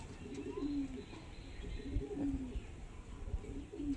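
Pet pigeons coo in a few soft, repeated low calls close by, with faint background noise between them.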